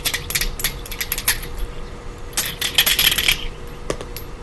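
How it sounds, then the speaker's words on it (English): Zodiac dice rolling and clattering on a hard surface, a loud rapid rattle of bright clicks in two bursts, close, with no talking. "I'm being asked to roll the zodiac dice, so adjust your volume because these are loud."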